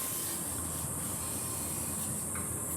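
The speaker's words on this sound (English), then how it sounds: "We'll just grind this down." An abrasive grinder works steadily on the metal of a VW Karmann Ghia floor pan, giving a continuous harsh, hissing rasp with a high, bright edge that holds without a break, close and alone.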